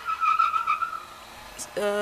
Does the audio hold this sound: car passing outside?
yes